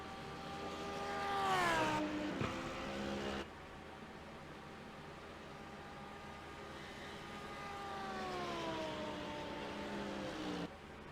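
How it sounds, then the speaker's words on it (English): Lamborghini GT3 race car at speed down the front straightaway at Fuji, a high-revving engine whine rising through the gears with a sharp upshift cut, then another pass that swells and fades under steady wind noise. "Let's take a look at the Lambo speed down the front straightaway"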